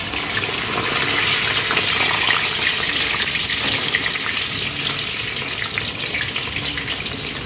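Pork belly fries in a pan with a continuous loud, crackling sizzle, steady throughout with no voices.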